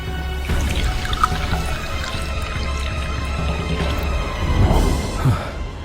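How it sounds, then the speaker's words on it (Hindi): Water is sprinkled onto a small mound of soil holding seeds, heard as a continuous close pour and trickle with scattered drips. "उसमें बीज डाला और पानी छिड़क दिया"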